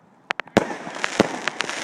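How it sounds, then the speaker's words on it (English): Fireworks burst in a series of sharp, loud bangs and pops, several close together and then more spaced out, with crackling trails between the louder reports. "There's a whole bunch of fireworks."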